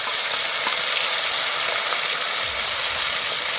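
Ginger paste and half-ground green chilli sizzling and frying in a pan for Kashmiri-style cabbage, a steady, loud, close hiss with no voices.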